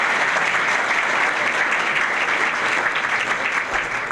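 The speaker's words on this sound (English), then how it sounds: "Okay, big round of applause." An audience at a Dearborn Area Chamber of Commerce event applauds steadily, a dense, even clapping from a roomful of people that lasts about four seconds without talk.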